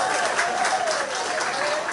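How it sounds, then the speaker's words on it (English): An audience at the annual pan finals in San Fernando gives a round of applause, a steady, full crowd clapping that stays even and moderately loud, with a faint held tone and some voices underneath. "Give him a nice round of applause."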